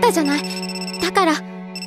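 A telephone rings with a steady electronic tone in two short bursts, heard under a voice speaking over it.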